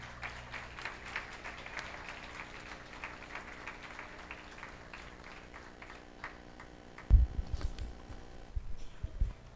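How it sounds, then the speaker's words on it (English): An audience applauds a speaker, with fairly faint, thin and scattered clapping that tapers off, followed by a few loud thumps near the end. "Loud applause for this girl, Dr. Maria Cristina Banruel."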